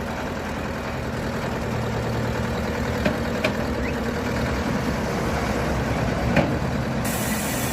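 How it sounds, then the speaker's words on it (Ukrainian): A Lovol 50 hp mini tractor with a four-cylinder engine runs steadily at close range, a constant low rumble with no break throughout. "Перед вами ловол на 50 кінських сил, 4 циліндровий мотор посилені редукторні мости."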